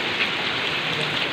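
Steady rain falling outdoors near a mountain, a dense close hiss of drops without pause over a brief moment.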